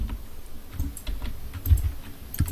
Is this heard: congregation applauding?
no